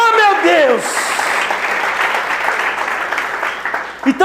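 A church congregation bursts into loud applause during a joyful worship service. The dense clapping fills the space and carries on steadily after a preacher's voice at the start, then tapers toward the end.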